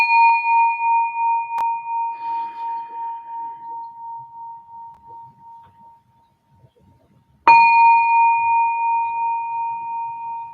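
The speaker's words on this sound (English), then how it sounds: "So I'm gonna ring the bell 3 times" A bell or singing bowl is struck twice before a meditation session: one clear ring decays slowly over about six seconds, then a second strike rings out loud and sustained. The third strike is not heard.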